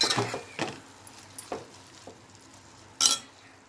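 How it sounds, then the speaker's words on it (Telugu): Moong dal and onion fry in a pan, a faint background sizzle punctuated by a few distinct scraping stirs and utensil knocks, the sharpest toward the end. "మంచిగా వేగుతుంది ఈ విధంగా వేసుకోవాలి"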